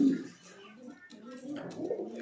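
White Pomeranian pigeons coo softly in a loft, a few low murmuring calls close by, quiet and brief.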